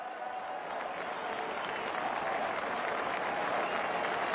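A large crowd applauds and cheers steadily in the distance at the 1988 VFL Grand Final premiership presentation, as Hawthorn players do their lap of honour, a continuous roar of clapping with no break.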